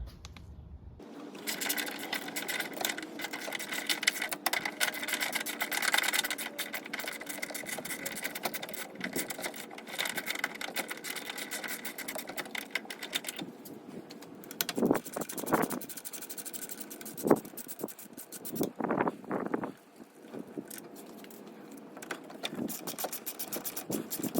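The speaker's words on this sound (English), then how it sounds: "Now we can use a ratchet to get the rest of it off." Ratchet wrench working bolts off a motor mount on a 2006-2011 Honda Civic, a rapid continuous clicking whir close by, breaking into short bursts with pauses toward the end.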